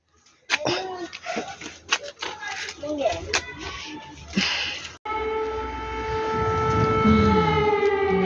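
People talk over faint background noise at a home in wartime Ukraine, then a loud air raid siren starts and wails steadily to the end, swelling slightly in pitch.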